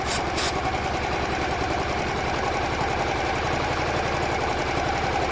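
A Honda Varadero 125 motorcycle engine idles steadily up close, a loud, even mid-pitched putter that holds a constant speed with no revving throughout.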